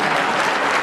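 Steady burst of audience clapping at a Hindi kavi sammelan poetry gathering, dense and continuous with no voices over it.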